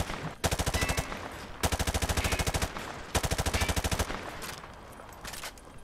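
Rapid automatic gunfire at targets in Call of Duty Modern Warfare 2 Remastered, three loud sustained bursts of fast repeating shots with short gaps between them, then a fainter trailing shot.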